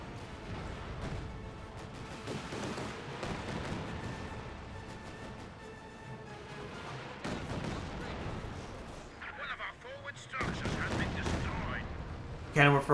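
Light artillery barrage in Company of Heroes 2, Soviet forces assaulting a main base: a dense run of overlapping booms and gunfire cracks, sharper impacts near the end, with battle noise throughout and a voice talking over it.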